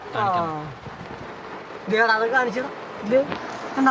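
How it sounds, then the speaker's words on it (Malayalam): Steady heavy rain hisses in a broad wash throughout, with a person talking over it in short bursts. "നല്ല മഴയാണ് വെച്ചാൽ മതി ഒരു രക്ഷയില്ല ഒരു രക്ഷയില്ലാത്ത മഴയാണ്"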